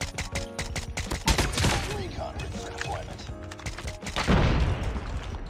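SKS rifle fire in a first-person shooter game comes as sharp rapid shots in bursts, loud and close, among other game effects, while a player talks over the action.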